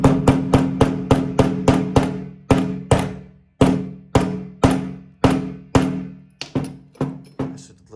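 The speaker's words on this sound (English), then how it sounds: "take a bigger screwdriver, something not to go straight through, just to hammer it down" A bigger screwdriver used as a punch to hammer down a pin on a SCCY CPX-2 pistol, roughly sixteen sharp metallic knocks in quick runs with short pauses, close and loud, no talking.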